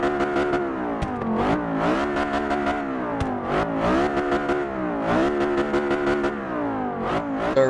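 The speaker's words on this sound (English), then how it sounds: "Love the sound of that V10 engine, that FSI V10" The Audi R8 V10 Plus with its FSI V10 engine revs repeatedly in the Forza Motorsport 6 video game, a loud rising and falling roar in several pulls with no talk.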